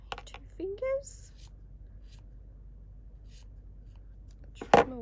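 Scissors make one sharp, close snip near the end while trimming a tassel of dazzle thread held between two fingers. A brief voice is heard early on, followed by a quiet stretch.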